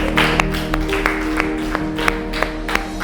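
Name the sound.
audience clapping at a school debate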